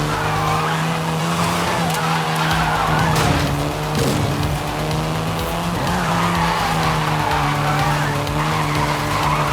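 A Volkswagen Golf R in Forza Horizon 5 drives hard with a steady engine drone and long continuous tire squeal and skidding, loud and close throughout.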